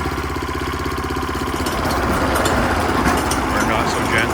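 The engine of a 25-year-old Toro Greensmaster 1000 reel mower idles with a steady mechanical chug and then rises in pitch and loudness as it is revved a little, close by.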